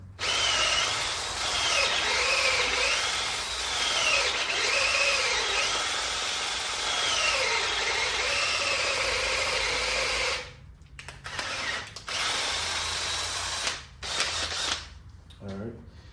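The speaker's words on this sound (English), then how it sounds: "I just went ahead and drilled it out." A power drill whines steadily for about ten seconds while drilling out a head bolt hole in a Kia/Hyundai 3.3/3.5/3.8 engine, its pitch dipping and rising under load, then stops and restarts in a few short bursts.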